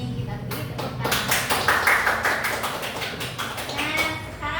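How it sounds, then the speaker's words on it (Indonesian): Students in a classroom give a round of applause, a modest group of hands clapping in uneven bursts that swell and then thin out, with voices chattering underneath. "kita beri tepuk tangan."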